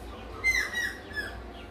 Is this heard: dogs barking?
no